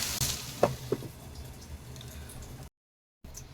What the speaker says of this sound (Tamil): இப்போ பாருங்க நல்லா கொஞ்சம் கொஞ்சமாக வறுபட்டுட்டு வருது